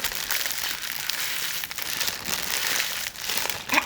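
Thin plastic packaging crinkles and crackles steadily while being handled during an unboxing of acrylic paints, close and continuous with brief pauses, no talking.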